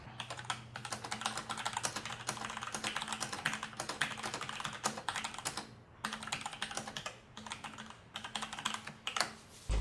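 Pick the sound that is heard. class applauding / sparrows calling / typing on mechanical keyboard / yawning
typing on mechanical keyboard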